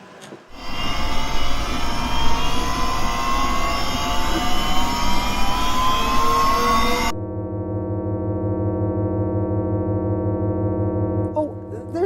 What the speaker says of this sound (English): I'm about to activate my mini nuclear generator